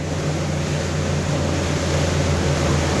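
An Axopar 37 Sun Top motorboat cruises at around mid 20 knots, a steady loud engine drone with a low hum mixed into the constant rush of water and wind along the hull.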